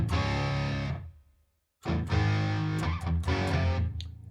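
Distorted electric guitar through a BOSS Katana amp with reverb, tape echo and plate effects, playing loud sustained chords, then a short silent break before strummed chord hits return with echoing tails.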